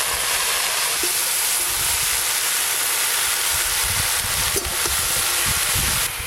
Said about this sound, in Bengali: গরম তেলে এইভাবে নাড়তে নাড়তে কিন্তু শাপলা থেকে জল ছেড়ে যাবে